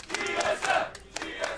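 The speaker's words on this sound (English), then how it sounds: "Looks like the crowd voting with the chant." A crowd in an esports arena during a TSM versus P1 NA LCS summer match chants together, a loud rhythmic roar of many voices rising and falling in repeated pulses.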